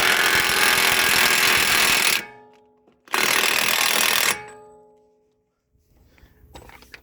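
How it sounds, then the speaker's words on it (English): A power tool driving the front hub nut back onto a 2012 Infiniti M37x AWD hub. Two loud, sustained bursts of a couple of seconds each, close by, separated by a short pause, then a fading whir and faint clatter. "now we're to the point of putting that hub nut back on."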